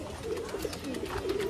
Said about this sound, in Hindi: बहुत ही प्यारे कबूतर